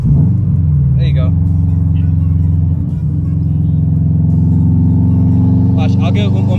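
Subaru car engine revving while driving, a loud steady low rumble that rises slightly, heard inside the cabin with people talking over it.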